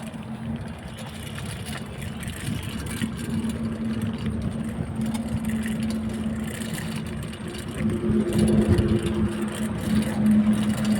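Road traffic rumbles steadily while cycling along a road toward the Chandrachur fair, a continuous engine drone that swells a little louder near the end with no clear voices.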